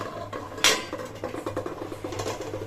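A lid clatters onto a metal tiffin box set over hot water while steaming hilsa, with one sharp clank near the start followed by light, scattered rattles of the metal settling.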